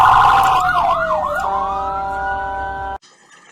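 Ambulance siren, loud and close, with a wailing tone that sweeps up and down, then settles into a steady held pitch before cutting off abruptly.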